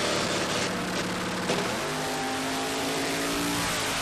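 A front-engine nitro dragster makes a pass at a drag strip test day. A loud, raw engine roar dominates, then fades with a falling pitch as the car pulls away into the distance, with no voices.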